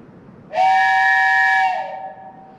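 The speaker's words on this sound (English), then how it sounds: "If you hear one long blast" A single long train whistle blast sounds loud and steady for over a second, then tapers off, with no other sounds around it.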